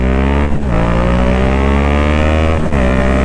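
A Yamaha MT-07 motorcycle ridden through city streets, its engine droning loud and steady with a strong low hum, briefly dipping twice as the rider shifts or eases off the throttle.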